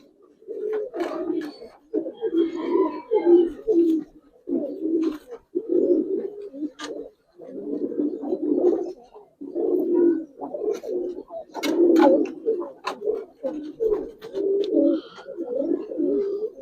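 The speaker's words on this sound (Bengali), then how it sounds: "একটা কবুতর আর এই যে এই একটা কবুতর" Gribaz (Giribaz) and colouring pigeons from a fancier's collection cooing nearly continuously up close, several overlapping bubbling coos in rolling bursts with brief pauses between them.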